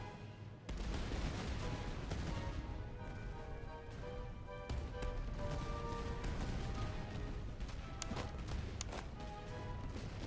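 Musket volleys from line infantry in the Napoleonic-era strategy game Master of Command, a dense continuous crackle of massed gunfire rolling across a battlefield, with scattered sharper shots popping out over a steady roar.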